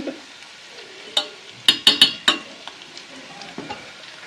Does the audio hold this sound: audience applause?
no